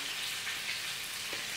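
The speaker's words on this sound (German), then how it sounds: "Rotwurst brutzelt inzwischen hier auch an." Blood sausage (Rotwurst) sizzling in a frying pan, a steady, fairly quiet crackle of frying that holds evenly throughout without any voices.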